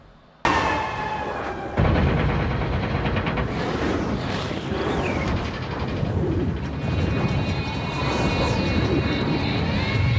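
A large transport plane flies during a film stunt scene with expensive cars, its loud, steady engine roar and whine filling the scene continuously from a sudden onset, with no talk.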